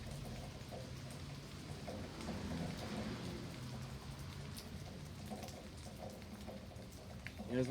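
Light rain patters softly and steadily outdoors, a quiet continuous hiss with occasional faint drips.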